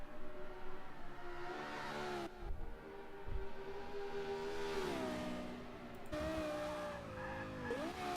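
The V10 of a Lexus LFA howls in a racing video game, revving high and rising in pitch with quick gear-change dips, mixed with tyre squeal during slides.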